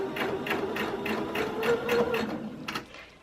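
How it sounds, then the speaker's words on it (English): A home sewing machine stitches over a basting seam on a refashioned men's polo, giving quick rhythmic bursts of needle clatter close by, then a short pause before a final burst. "I'm just gonna sew right over my basting stitch."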